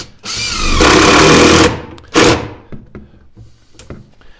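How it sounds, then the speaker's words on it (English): A drill drives a 1¼-inch grabber screw to tie two kitchen cabinets together: a loud burst of whirring, a second short spin, then light knocks and handling clatter. "We're going to tie the 2 cabinets together with 1¼ inch grabber screws."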